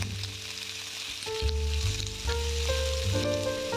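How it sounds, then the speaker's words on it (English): Beef strips frying in oil in a hot pan for a beef and vegetable stir fry, a loud continuous sizzle close by, with steady hissing throughout and no talking. "We are going to start off by cooking out beef strips by adding that bit of oil to a hot pan."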